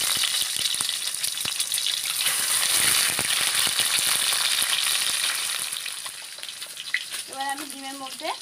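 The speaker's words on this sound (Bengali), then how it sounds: "ডিমগুলো ভাজি করে নেব, সেদ্ধ করে রেখেছিলাম সেগুলোকে, তার জন্য একটু সরষের তেল দিয়ে দেবো" Boiled eggs frying in mustard oil in a pan for a Bengali egg curry, a steady loud sizzle throughout with scraping stirs, easing toward the end where a voice speaks briefly.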